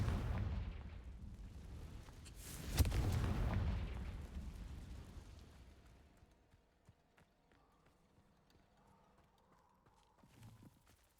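In Hogwarts Legacy, a Confringo fire spell goes off as a loud, booming blast that swells, then slowly fades into low rumble and quiet ambience, followed by a softer thud near the end.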